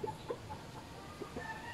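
Tethered chickens tied up near a roosting spot give a few short, scattered clucks, faint and a little distant, over quiet outdoor background with no talking.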